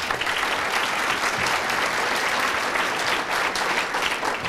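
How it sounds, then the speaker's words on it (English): Steady, dense applause fills a community service awards ceremony, an audience clapping continuously at even volume without talk. "So a round of applause for Mike."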